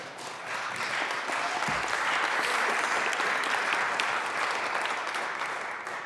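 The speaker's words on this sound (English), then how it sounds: "It's okay, you can clap." A room full of people claps loudly and continuously for a New York State senator's budget remarks, the applause building quickly and holding steady for several seconds before easing slightly.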